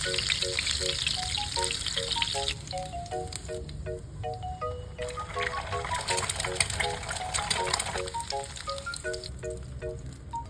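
Egg and hotdog frying in a pan for breakfast give a continuous, close sizzle and crackle, with a background melody playing throughout.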